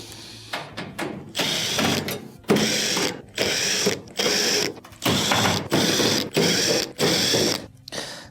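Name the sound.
unscrewing Phillips screws from oven rear panel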